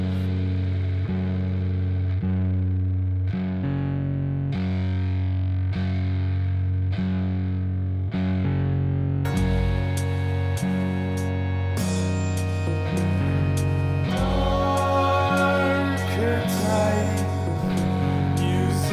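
A live guitar played through distortion and effects builds a soundscape of repeated, evenly spaced chords, thickening into dense, layered sustained tones in the second half.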